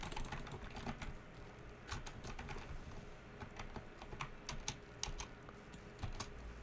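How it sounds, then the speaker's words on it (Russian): Rapid, irregular clatter of a computer keyboard being hammered during a Rocket League session, dense bursts of close keystrokes running throughout with no talk. "по своей клавиатуре бомблю"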